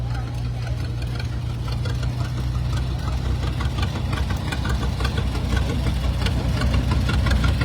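A vintage GP tractor engine idles steadily at a tractor show, a low, throbbing knock, continuous and close throughout.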